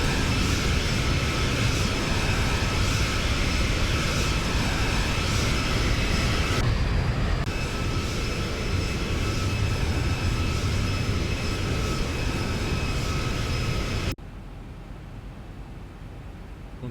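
Exterior jet engine roar of a Zibo 737 in the X-Plane 12 flight simulator, a loud steady broadband rush with a high whine, which abruptly drops to a quieter level near the end.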